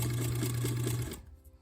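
A sewing machine runs at a steady, rapid stitching hum while sewing the curved seam of a Drunkard's Path quilt unit, then stops abruptly, leaving a quiet room.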